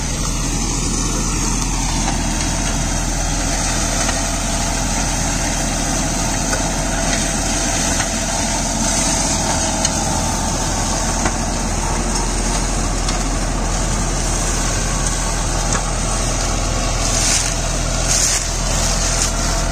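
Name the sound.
John Deere 5310 4WD tractor engine running PTO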